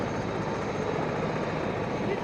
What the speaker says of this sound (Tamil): Helicopter landing.